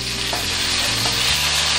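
Crushed garlic, dried red chili and curry leaves fry in a pan for a tomato chutney, giving a steady close sizzle with soft stirring scrapes throughout and no talking.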